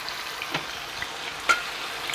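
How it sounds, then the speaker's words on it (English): A soft, steady sizzle of steak frying in a pan, with a few faint pops and clinks, no voices. "y'all hear that sizzling? Sizzle, baby, sizzle."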